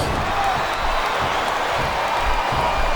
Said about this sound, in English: It sounds like this capacity crowd has something on their minds